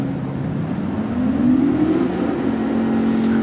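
Group 3 race cars in Gran Turismo Sport lap the Tokyo Expressway, their engines droning loudly and rising in pitch as they accelerate, then settling into a sustained high whine.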